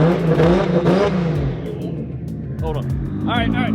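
Toyota Supra with an 800whp engine revving, the engine note rising and falling in loud bursts close by while people talk over it.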